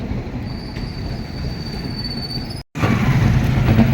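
An arriving train rumbles close by with a steady roar and a thin high squeal of wheels, the noise swelling louder toward the end.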